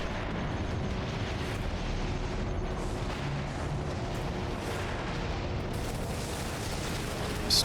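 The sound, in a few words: plasma grenade explosions in video game Warhammer 40,000: Space Marine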